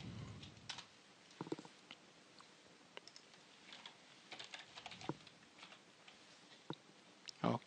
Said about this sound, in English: We type in our search box regedit.